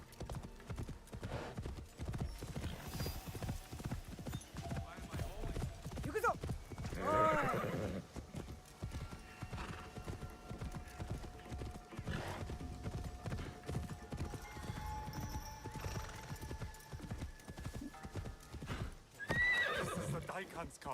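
A horse in Assassin's Creed Shadows gallops with continuous hoof clatter, neighing a couple of times along the way, while a person talks over much of the ride.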